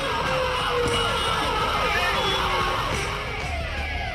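Wailing car sirens and hooters sweep up and down in overlapping tones amid loud traffic noise and crowd voices, as people perform stunts on cars.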